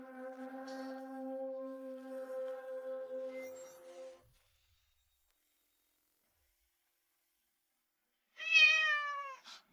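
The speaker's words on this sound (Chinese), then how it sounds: "哪来的野猫？" A stray cat meows inside an office building, first a long, steady, drawn-out cry lasting several seconds, then silence, then a short, sharper, rising meow near the end.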